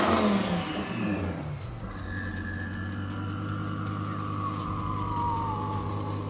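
Tuned 1,500 PS Lamborghini Huracán Performante built by Klasen-Motors revs hard nearby, its engine note swelling and sweeping in pitch over a steady, rumbling idle for the whole stretch.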